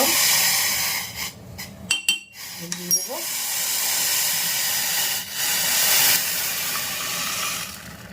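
Water heating in a pot on a stove gives a steady, fairly loud steam hiss throughout, broken by a few brief clinks of utensils and faint background voices.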